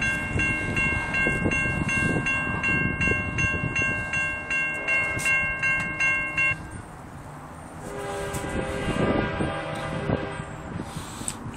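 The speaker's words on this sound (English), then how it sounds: "Yes, we have freight train." A Canadian National freight train rolls past nearby in Effingham, Illinois, a steady heavy rumble with rail clatter, while a loud horn sounds in long tonal blasts for the first half.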